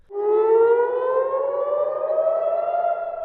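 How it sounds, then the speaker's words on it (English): A single air raid siren in Jerusalem warning of incoming missiles wails steadily, its pitch slowly rising as it winds up, loud and sustained with no other sounds. "air raid sirens warned of incoming Iranian missiles"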